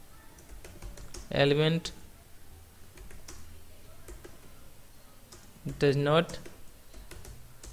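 Soft clicks of a computer keyboard being typed on at moderate distance, steady light tapping running under two brief spoken phrases.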